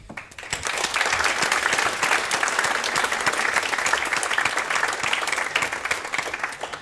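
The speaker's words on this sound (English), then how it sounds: "I think they do deserve a big round of applause." Audience at a panel debate gives the speakers a big round of applause: sustained, dense clapping from many hands, filling the room evenly for nearly seven seconds before easing off.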